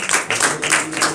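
A small group at a Christian home meeting claps for Jesus in a quick, even rhythm, close and fairly loud over a short stretch.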